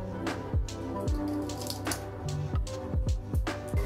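Laundry in a washing machine sloshes in the background, giving a steady series of soft, wet thumps and squishy drops at an irregular, rolling rhythm, with no talking.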